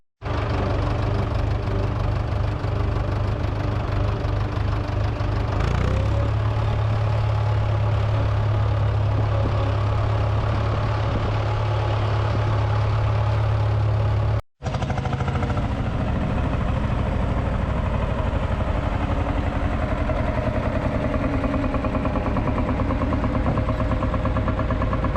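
A tractor engine idles at the Kirriemuir agricultural show in Scotland with a steady, knocking diesel chug, close and continuous apart from a brief dropout partway through.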